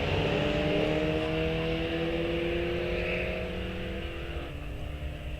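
An '07 Cadillac launches down a drag strip, its engine holding a loud, sustained droning roar that climbs steadily in pitch, then fades as the car pulls away.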